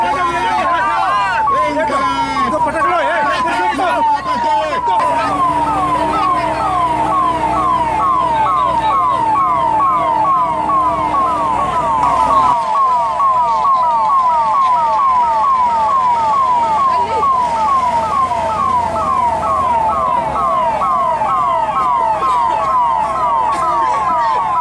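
Ambulance siren wailing in a rapid repeating up-down pattern at a police riot drill in Bhopal, loud and steady throughout, with crowd voices and a brief low drone underneath.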